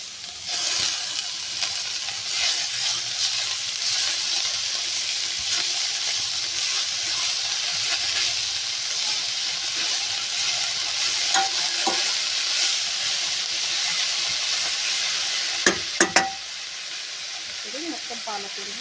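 Spinach tossed in a pan with garlic, a steady sizzling hiss of frying with scraping stir strokes throughout, close and fairly loud, a few sharp clatters of the utensil near the end.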